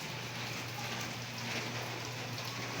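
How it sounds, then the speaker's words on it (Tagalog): Steady rain falls outdoors along a street, a constant broadband hiss of drops with no break or change in level, fairly quiet and with no voices. "Ang panahon natin, maulan."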